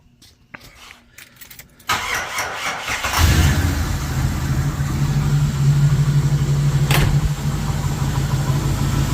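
A carbureted 1990 Jeep Grand Wagoneer with a stalling and bucking problem cranks after a few quiet seconds, catches about a second later, and settles into a loud, steady, close-up idle.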